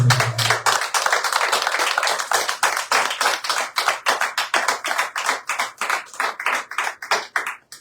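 A church congregation claps together, dense rapid applause settling into a rhythmic, fairly close patter of hands that runs the whole time, with a brief voice at the start.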